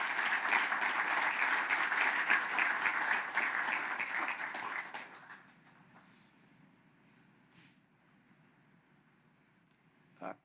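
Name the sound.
audience applause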